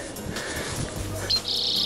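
Siskin, goldfinch and greenfinch sing in the open during songbird trapping, with a few faint chirps and then a bright, sustained high trill near the end over soft background noise.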